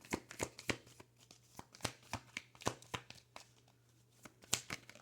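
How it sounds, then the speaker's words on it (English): Tarot cards shuffled by hand in a quick, uneven run of crisp riffling snaps and slaps, close and clear against a quiet background with no talking. "Okay, so let me shuffle."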